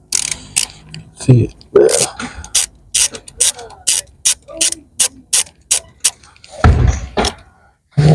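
Ratchet wrench undoing 12mm nuts on a Mazda 6 SkyActiv turbo, a string of loud rapid clicks in short bursts close by, with someone speaking briefly between them.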